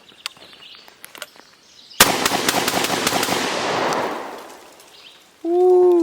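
A Mossberg 590 shotgun fires outdoors in a fast, dense string of loud blasts that roll into a long echoing decay, followed by a short whooping voice.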